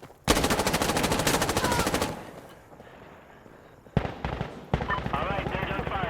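Rapid automatic gunfire in the shooter game Insurgency Sandstorm, a loud sustained burst followed by a lull with distant shots, then more close sustained firing, with radio-style voices talking over parts of it.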